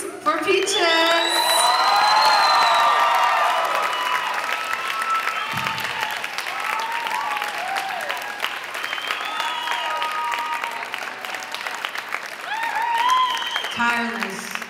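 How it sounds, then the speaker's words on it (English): Festival crowd applauding and whooping for Peaches at a Q&A session, a dense, loud wash of clapping and cheers that swells early, holds steady, then tapers toward the end. "So, a round of applause, please, for Peaches!"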